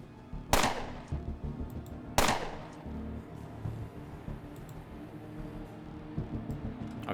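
Two sharp, loud gunshots about two seconds apart in the Underrail role-playing game, fired at a rat hound alpha, followed by quieter clatter and low rumbling game sounds.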